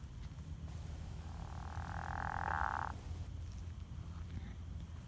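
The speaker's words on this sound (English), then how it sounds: "In this area, I'm only hearing pickerel frogs." A single drawn-out pickerel frog call, a low snoring croak lasting about a second and a half, rises above a steady background hum of other pickerel frogs.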